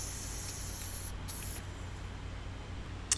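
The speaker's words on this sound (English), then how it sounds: "we have some clear lacquer we use to start sealing it up" Clear lacquer sprays onto a Les Paul guitar body as a steady, close hiss of aerosol mist, pausing briefly near the middle before resuming, with a small tap at the very end.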